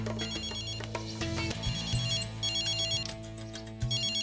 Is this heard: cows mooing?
no